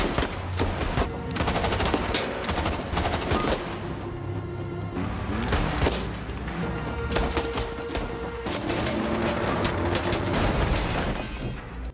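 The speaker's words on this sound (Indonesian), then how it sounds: "Baku tembak pun kembali terjadi." A film shootout of rapid gunfire bursts, dense volleys of shots and booms crackling almost continuously, loud and close with brief lulls between clusters, no speech over it.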